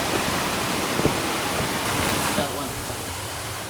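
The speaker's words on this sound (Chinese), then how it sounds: "这边是有河水的。" A mountain river near the Kabayan burial caves in northern Philippines rushes past, a loud, steady broadband roar of flowing water that continues unbroken throughout.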